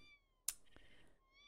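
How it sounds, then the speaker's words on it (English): A cat meows once in The Sims 4, a short, clear call from the game over quiet background tones, preceded by a sharp click. "No, the cat is here."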